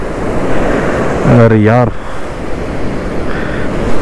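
Sea waves surge continuously onto Kothapatnam beach near Ongole in a loud, close wash of surf and wind, and a man briefly exclaims partway through.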